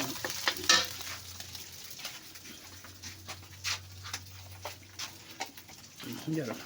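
Spaghetti is stirred in a pan at home, giving intermittent scraping and faint sizzling under a low hum, with a few sharp clatters and a dog's whimpering sounds mixed in.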